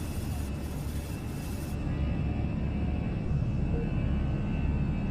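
Simulated A320 jet engines spool up to climb thrust on departure, a loud steady broadband roar that holds throughout with no talk over it.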